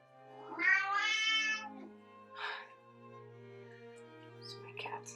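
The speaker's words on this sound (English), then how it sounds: "It's my cat." A cat meows in a painting studio, first with one long, clear, wavering meow, then a shorter mid-length cry and faint chirps, close and fairly soft against a low steady hum.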